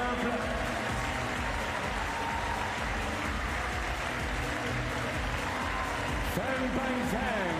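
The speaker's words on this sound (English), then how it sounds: "Merci d'applaudir également la sortie du désormais quintuple champion paralympique" An audience at a Paralympic table tennis event applauds the exit of a singles champion, a steady, dense wash of clapping from a large crowd that continues throughout, with an announcer speaking over it.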